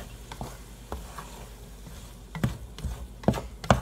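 Chicken fried cauliflower rice being stirred with soy sauce in a pan: scattered soft scrapes and clatters of a utensil over a faint sizzle, with a few louder strokes toward the end.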